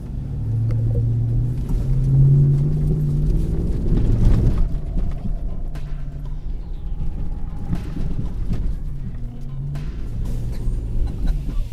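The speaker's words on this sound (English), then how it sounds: "Waiting for the Chevy truck to come down." A Chevy truck drives down an off-road course, heard as a steady low engine rumble that swells and fades at a moderate distance, with a faint voice briefly audible.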